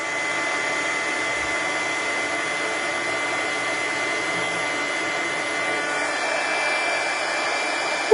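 A handheld heat tool blows hot air over embossed cardstock in a steady, fan-like whir with a high electric hum. It holds an unbroken tone throughout, with no voices.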